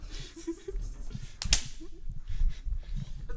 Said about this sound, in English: sounds like you just slapped